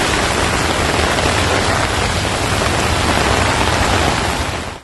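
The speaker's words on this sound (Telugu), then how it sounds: "ఎడతెరిపి లేకుండా కుండపోత వర్షం కురుస్తోంది" Torrential, unrelenting monsoon downpour in Telangana: a dense, loud, even roar of rain pounding surfaces that holds steady throughout and then fades out abruptly, with no voices.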